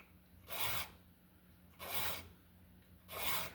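Hand file cutting a serrated, sawtooth edge into the top of a knife blade, three distinct close rasping strokes with short quiet gaps between them.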